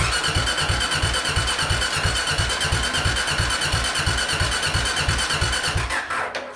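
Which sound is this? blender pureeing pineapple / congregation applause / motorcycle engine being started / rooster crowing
motorcycle engine being started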